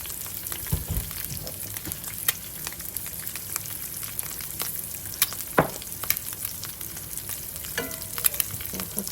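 Eggs fry steadily in a pan, a continuous crackling sizzle with scattered sharper pops throughout, close and moderately loud with no talking.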